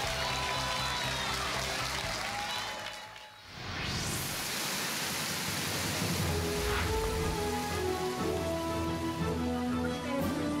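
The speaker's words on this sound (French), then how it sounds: "Une pluie soudaine." A sudden rain falls with a dense, even hiss that dips briefly and then swells back heavier. It carries on steadily over a soft, sustained musical background.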